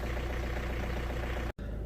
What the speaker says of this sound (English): I'm gonna leave it here idling